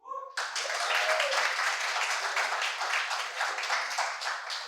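A dense burst of audience applause breaks out at a poetry performance, with many hands clapping loudly and steadily. It continues without a break until it fades at the end.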